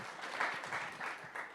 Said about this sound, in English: How about some cheers there?